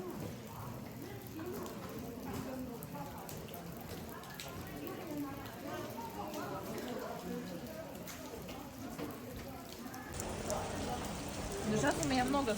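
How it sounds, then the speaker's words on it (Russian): Rain falls steadily on a city street in China, a dense, even hiss and patter that continues throughout beneath a talking voice. "А дождь идет, идет и идет"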